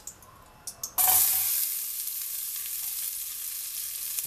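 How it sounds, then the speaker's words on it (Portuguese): A loud sizzle bursts in after a few light knocks, settling into steady frying crackle as onion and garlic fry in melted lard, with no talking. "Porque aí a cebola já vai fritando"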